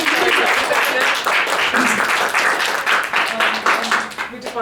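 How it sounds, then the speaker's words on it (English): Audience applause from a crowd at a refugee-focused peace and justice summit, steady dense clapping sustained throughout and tapering slightly toward the end. "Another round of applause for that."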